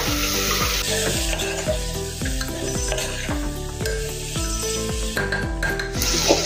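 Spices, coriander and cumin powder among them, stirred into palak baingan dal in a pan with a steady sizzle. Close, rhythmic scraping strokes of a spoon repeat about once every half second, with no voices.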